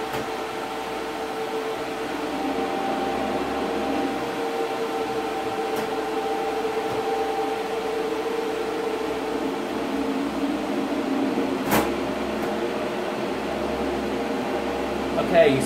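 Computer graphics card fans run with the casing fitted, giving a steady whirring hum with a faint tonal drone that stays even throughout, with a couple of brief clicks and no talking.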